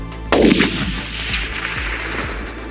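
A single loud, close rifle shot is fired at a groundhog outdoors, a sharp crack followed by a rolling echo that fades over two seconds.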